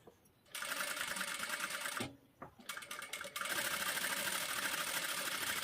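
A sewing machine stitches the back part of a blouse, a close, fast rattling whir in two bursts separated by a short pause, the second run steady and continuous.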